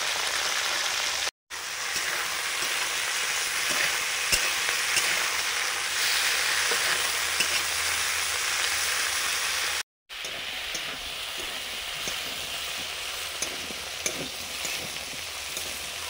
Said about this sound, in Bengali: এবার বরবটি ভাজছি।